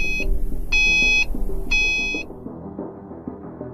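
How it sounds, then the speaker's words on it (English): Mercedes-Benz GLE Parktronic parking sensor warning: three loud, clear high-pitched electronic beeps in a steady rhythm, each about half a second long, over low music or cabin hum. "It indicates the distance between your vehicle and an object visually, and also audibly if you continue to approach it."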